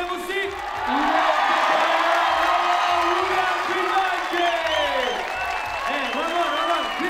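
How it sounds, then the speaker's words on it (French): Crowd at a climbing competition in Serre Chevalier applauding and cheering loudly and steadily, with whoops and shouts rising over the clapping throughout. "Tonnerre d'applaudissements, s'il vous plaît"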